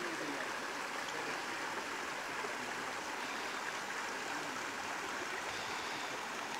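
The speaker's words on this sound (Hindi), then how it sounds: "ये एक मज़ेदार चश्मा पानी निकल रहा है जी।" Cold spring water gushes steadily from a natural source in Kashmir, a continuous close rushing and splashing that holds even for the whole stretch with no voices over it.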